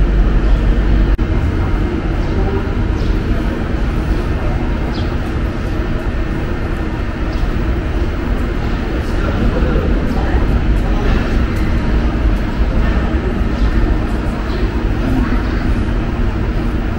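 A train ride, heard from inside a carriage on the way toward Ankara, as a steady loud low rumble of wheels and running noise throughout, with some voices and chatter mixed in.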